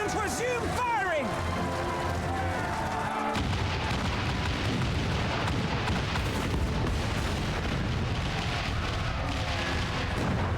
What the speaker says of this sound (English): All cannons resume firing!